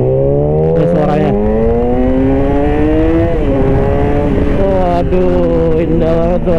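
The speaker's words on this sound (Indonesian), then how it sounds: "Itulah 4 silinder, suaranya tuh bener-bener rapet banget." A Yamaha R6 four-cylinder sport motorcycle engine revs hard and loud up close, its smooth high-pitched wail climbing and dipping through several throttle blips with no pauses.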